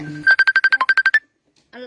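A phone ringtone plays a rapid run of about ten evenly spaced bright electronic beeps, loud and close, then stops, followed briefly by a voice.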